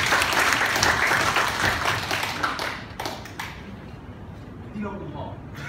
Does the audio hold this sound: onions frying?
no